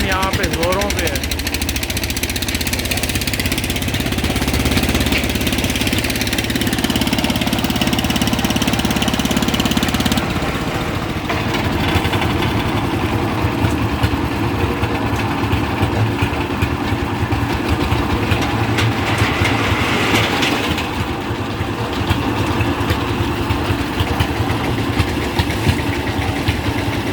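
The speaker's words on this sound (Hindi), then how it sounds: "कंस्ट्रक्शन यहाँ पे जोरों पे है।" Machinery engines run and idle at a busy, dusty construction site where shuttering work is underway, a loud steady mechanical drone with rough knocking, and a person talks over it throughout.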